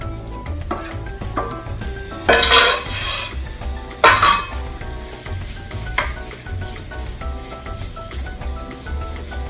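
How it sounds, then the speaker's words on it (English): Chicken with butter and spices sizzles loudly in a hot pan, a constant frying hiss with a few sharper bursts as the pieces are stirred and scraped for butter chicken tikka masala. "now I'm going to just saute this"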